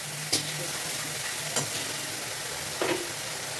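Masala paste stir-fried in oil in a pan for a pomfret curry: a steady close sizzle broken by three distinct scraping stirs, spaced about a second apart, with no voices.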